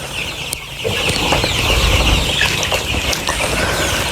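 Sonali chickens sick with Gumboro disease cluck and squawk inside a poultry shed, a dense, close chorus with occasional wing flaps, loud and continuous without talk.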